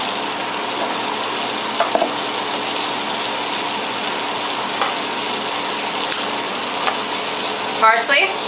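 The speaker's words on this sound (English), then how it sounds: "Melt the butter down." Half a stick of butter melting in a pan while cooking chicken Marsala, giving a steady low sizzle and hiss throughout with a few faint clinks and a brief louder scrape near the end.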